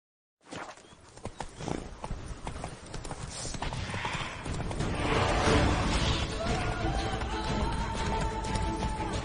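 Roach the horse in The Witcher game clip-clops along in steady hoofbeats that grow louder and fuller, with a faint neigh-like tone amid background game sound.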